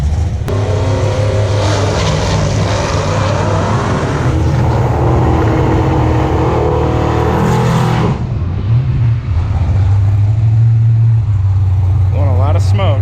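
A 1995 Ford Mustang budget drag car with a limited-slip rear launches down a quarter-mile strip, its engine roaring loud and sustained before dropping to a lower drone, with people talking over the noise.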